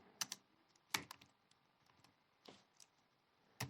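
Computer keyboard keys clack in short, irregular bursts of close, crisp taps with pauses between them, quiet and alone.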